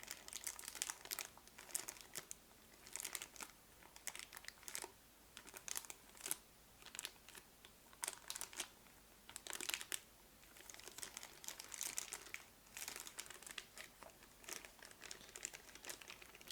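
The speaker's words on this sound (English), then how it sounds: "I love crinkling. I love the sound of when your fingers sort of stick to it as you pull them away." Packaging from a Blue Yeti USB microphone crinkles close up in repeated bursts, plastic and paper rustling and crackling on and off with short pauses between handfuls.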